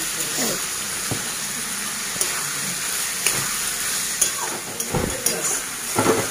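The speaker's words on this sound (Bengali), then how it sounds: "আর এইবার কাজু আর কিশমিশটা একটু নাড়াচাড়া করে নেবো এর সাথে।" Cashews and raisins stirred and fried in a pan, a steady hiss of frying under intermittent spoon scrapes and knocks that grow more frequent toward the end.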